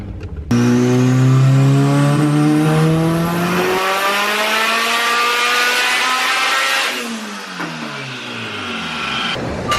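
A big-turbo Honda car pulls hard on a dyno, its engine revving in one long rising sweep, loud and close, then dropping off and easing back as the run winds down.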